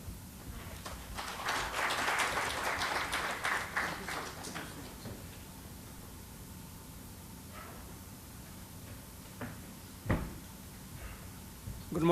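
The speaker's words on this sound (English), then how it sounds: "Please put your hands together." A conference audience applauds to welcome a keynote speaker, dense clapping swelling for several seconds before thinning out into a quiet hall with a few scattered knocks.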